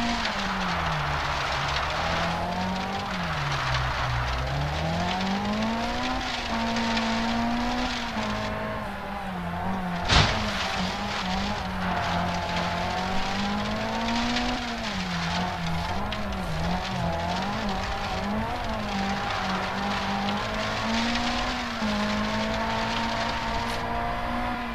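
A Lancia Fulvia rally car in a Sebastien Loeb Rally game drives a stage, its engine droning steadily with pitch rising and falling through gear changes. Gravel and road noise run underneath, and one sharp impact thump comes about midway.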